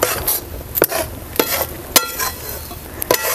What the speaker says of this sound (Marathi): आणि कंटिन्यू आहे ना पूर्ण असं आपल्याला सारखं असं हलवत राहायचं, जरा सुद्धा सोडायचं नाही